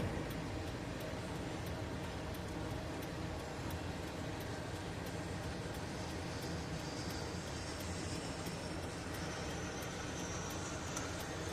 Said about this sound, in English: Usually these CN trains are very, very long.